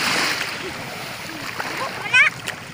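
Children splash in a basin of water at the beach, with light watery splashes and one louder burst near the end; voices are heard over the splashing.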